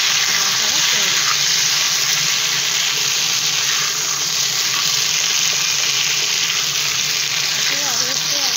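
Potatoes frying in a pan with turmeric and salt give a loud, continuous hiss and sizzle throughout, with a voice faintly audible beneath.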